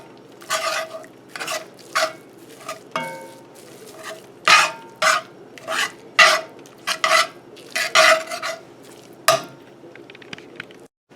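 Eggs cooking in a pan with Spam leftovers are turned over with a utensil, bringing a series of scraping and clinking strokes against the pan, close and fairly loud, separated by brief pauses.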